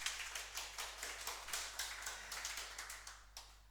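A class of students clapping their hands together, a rapid, even patter of many claps that keeps going steadily for several seconds at a moderate distance.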